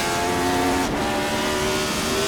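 A 1975 Formula 1 car from a mod in Assetto Corsa, on the Südstrecke track, powers out of a corner with a loud, steady, high-pitched engine note that holds and rises slightly after a brief dip.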